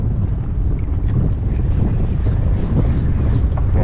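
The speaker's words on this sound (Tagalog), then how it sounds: "lakas ang hangin" Strong wind buffets the microphone in a continuous low roar while fishing from a boat, with faint water and boat sounds beneath and no talking.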